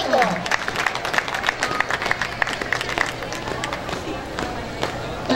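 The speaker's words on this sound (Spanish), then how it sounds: "Pedimos un fuerte aplauso" Audience applause at a Mexican civic show with a folkloric dance performance, a continuous patter of many clapping hands at moderate volume, with a voice speaking over it at the start.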